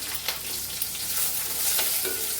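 Onions and green chillies sizzle steadily in a hot pan, a close, continuous crackle broken by a few light stirring scrapes, with no talking.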